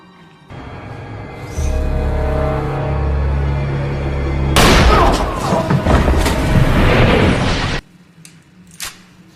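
Gunfire and booming impacts in the 2007 film Death Sentence, a loud burst of shots and crashes in an action scene that cuts off abruptly, followed by a few faint thuds.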